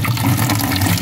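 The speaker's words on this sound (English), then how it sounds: "you just take the bucket, fill it with water" Water gushes steadily from a tap into a bucket, a loud close hollow splashing fill that lasts the whole brief moment.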